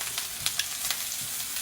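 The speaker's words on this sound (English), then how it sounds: "I got to flip this steak here" A thick steak sizzles and crackles steadily in a hot pan while being flipped, with a few sharper spits and pops over the constant fry.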